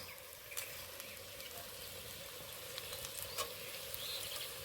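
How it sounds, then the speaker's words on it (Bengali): Jackfruit frying in goat fat, a steady, moderately faint sizzle and patter that carries on evenly, with light crackles spread through it. "স্বাদ মতো লবণ এবার বেশ কিছুক্ষণ ভেজে নেব"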